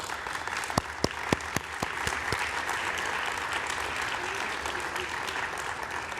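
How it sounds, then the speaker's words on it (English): Applause from a seated community gathering, a steady wash of many hands clapping with a few sharp nearby claps early on, continuing for several seconds at moderate loudness. "Let's give this group a round of applause."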